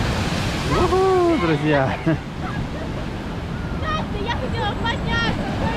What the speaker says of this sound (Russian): была большая волна, шикарно